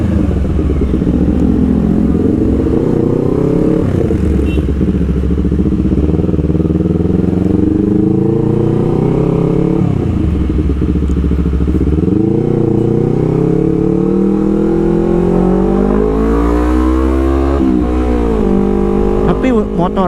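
Honda CBR250RR motorcycle ridden fast, its engine droning loud and close with rising and falling pitch through gear changes and throttle sweeps, wind rushing over it, and a voice talking in places.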